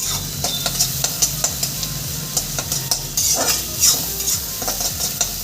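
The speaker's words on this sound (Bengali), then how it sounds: "পেঁয়াজটা আমি লাল করে ভেজে নেবো" Steady sizzling of onions frying in a pan until browned, with repeated scraping and stirring strokes at an uneven rhythm, close and continuous, no voices.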